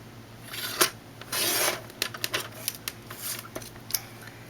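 Scissors snipping through paper for a coffee cup craft, with a series of short, crisp cuts and one longer slicing stroke, close and fairly quiet, with no talking.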